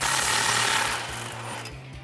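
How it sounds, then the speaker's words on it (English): A loud power tool with a rattling, rapid-fire mechanical chatter drives a 16 mm socket on the exhaust pipe flange bolts of a 2019-2020 RAM 1500, running continuously, then easing slightly in pitch and level. "There are 2 16 millimeter bolts, switching over to a 16 socket to get those off."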